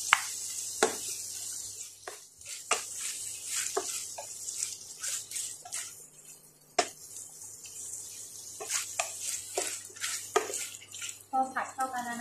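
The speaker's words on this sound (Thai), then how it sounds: "ผัดให้เข้ากันนะคะ" Squid stir-fried with curry paste in a pan: sharp, irregular clicks and scrapes of a utensil against the pan, with light sizzling underneath and someone talking over it.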